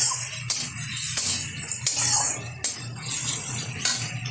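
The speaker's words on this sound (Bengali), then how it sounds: "এবার ভালোভাবে একটু নেড়ে ফেড়ে নেবো" A spoon scrapes and stirs ground cumin and coriander in a pan while preparing a spiced flour-battered pumpkin fry, giving steady close metallic clinks and scraping strokes with no talk.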